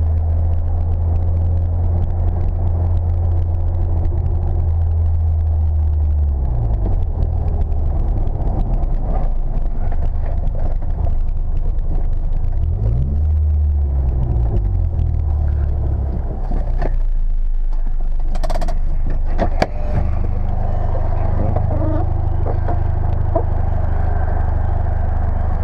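A 2005 VW Golf GTI hatchback with a 1.8L turbo engine and five-speed manual drives along steadily, its engine and road rumble loud and constant, with pitch rising and falling through gear changes and a few brief clatters near the end.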